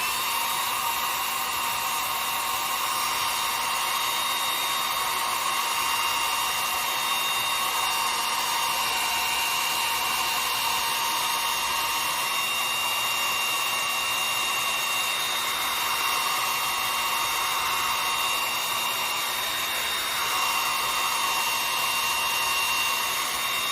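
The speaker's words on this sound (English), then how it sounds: "I'm going to turn the heat on again, so watch your ears." Heat gun blowing hot air onto a jute rope beehive, a loud continuous whining roar of the blower motor holding steady and close for over twenty seconds, with no talking over it.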